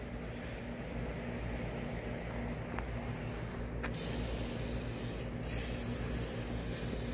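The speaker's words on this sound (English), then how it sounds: "Go to that other can. It's going to spray better." Easy-Off oven cleaner sprays from an aerosol can in a steady, close hiss that continues for several seconds, with a couple of brief clicks and a brighter surge partway through.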